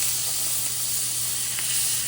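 Italian sausages sizzle steadily in a pan with butter, a constant close hiss of frying with no voices.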